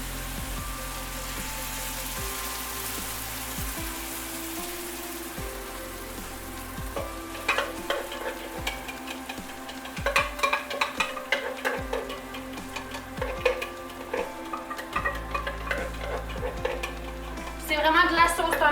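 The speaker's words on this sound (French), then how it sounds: "Je mélange tout pour bien incorporer ma sauce à ma viande et à mes champignons." Tomato sauce stirred into frying meat and mushrooms in a pan: a steady sizzle runs throughout, with scraping, knocking spoon strokes growing busier toward the end, close up and with no talk.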